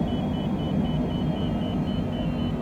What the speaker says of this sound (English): That's the inner marker indicator. You're hearing beep.